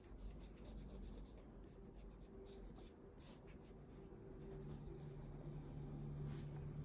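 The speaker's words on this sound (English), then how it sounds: "So I can take my eraser and I'm just gonna lift this out." An eraser rubs HB pencil lines off drawing paper in a steady, continuous scrubbing that stays close and fairly even throughout, with no talking.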